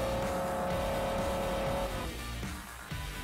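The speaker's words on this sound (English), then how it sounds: "SRT10 performs on the 1 mile drag on the Top Gear test track from the Forza Motorsport 4" Engine of a 2006 Dodge Ram SRT10 pickup truck on the 1-mile drag strip at the Top Gear test track in Forza Motorsport 4, a loud, steady high-revving roar that shifts gear and drops in pitch partway through.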